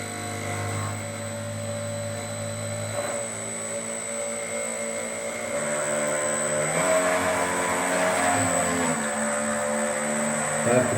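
RC patrol boat motor and propeller churning in a bathtub, a steady whining electric drone with shifting tonal pitch that swells and grows rougher in the second half as throttle rises.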